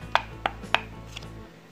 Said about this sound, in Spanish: presionan una baraja por el medio y suena así